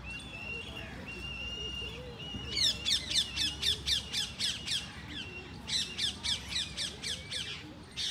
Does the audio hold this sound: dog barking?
no